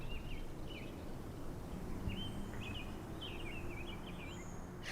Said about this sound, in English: did the birds seem louder recently?